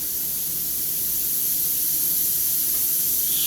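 An airbrush sprays white paint onto a rivet head on a metallic surface, giving a steady, continuous, close hiss that holds for the whole stretch with no voices.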